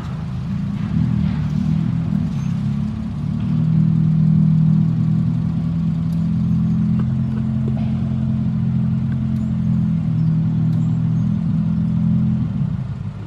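A dually pickup truck with straight pipes revving in place while its rear wheels spin and the fronts stay still, a loud, sustained low engine drone holding steady at close range for several seconds.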